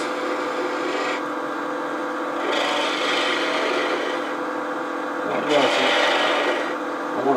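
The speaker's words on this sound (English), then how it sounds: "I want to slice those fibers off clean or they could tear out, so you just want to make sure you're slicing away." A lathe tool slices across the fibers of spinning wood while an Easter bunny is being turned, making a steady, close rasping hiss that swells and eases in long strokes over the constant hum of the machine.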